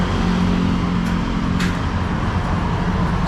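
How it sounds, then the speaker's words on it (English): Busy street traffic with many cars passing makes a constant, loud roadway rumble and engine hum, with no single vehicle standing out. "Sorry about the noise, but there's a lot of cars around today."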